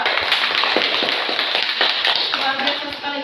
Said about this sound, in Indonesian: Jadi kita tepuk tangan dulu untuk kelompok 2.